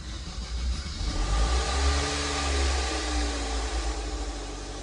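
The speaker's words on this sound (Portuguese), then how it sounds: "vou deixar aí com o barulho da primeira partida" A Chevrolet Onix with about 158,000 km on it cranks and starts, the engine catching and settling into a steady, rumbling idle, heard alone at moderate loudness.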